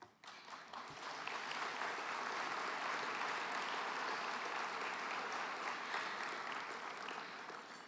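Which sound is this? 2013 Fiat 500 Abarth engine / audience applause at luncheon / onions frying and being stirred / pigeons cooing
audience applause at luncheon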